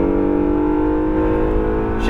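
An Acura NSX engine howls at full throttle on a track lap, a loud steady tone with dense harmonics rising in pitch, close and continuous, with a hint of a gear change near the end.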